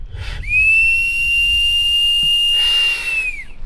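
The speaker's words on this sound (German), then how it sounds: "Dieses Pfeifen, was er bei 50 Bar anzeigt oder ertönen lässt," A firefighter's breathing apparatus sounds its low-pressure warning at 50 bar: one long, steady, piercing whistle lasting about three seconds, near and loud, then trailing off, with no talk.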